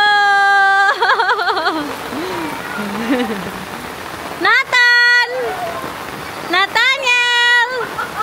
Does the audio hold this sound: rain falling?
yes